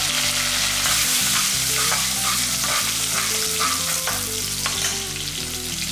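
Crushed garlic and green chillies fry in hot oil in a pan, a loud continuous sizzle with bursts of crackle throughout, close up and with no voices.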